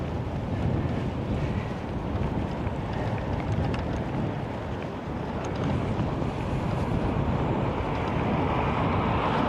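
Strong wind roars continuously across the microphone while cycling in Nord-Troms in Arctic Norway, a dense, loud buffeting rush with no voices.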